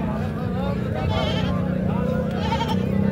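Goats bleat at a crowded livestock market at Muhammad Pur mandi, heard faintly under constant loud chatter from a dense crowd of people.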